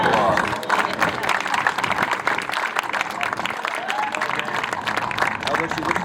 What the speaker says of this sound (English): let's give Vernon one more round of applause